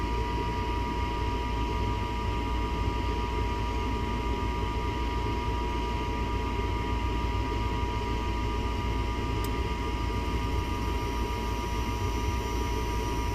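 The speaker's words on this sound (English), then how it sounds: "That inducer does not sound good either." A furnace inducer motor runs during a test fire and sounds unhealthy, giving a steady droning hum with tonal whine and rough broadband noise at constant level, with no talking.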